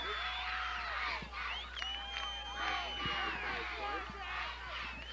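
A crowd at a 1982 high school homecoming football game, Vardaman Rams versus Walnut, cheers and whoops as cheerleaders hype it up. The noise is loud and sustained, with shrill voices and shouts rising and falling.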